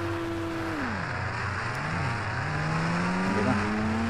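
A car engine in the Indian Bike Driving 3D video game, revving with a clear tonal whine that holds steady, drops as the car shifts down, then climbs smoothly again during a test drive, with no talk over it.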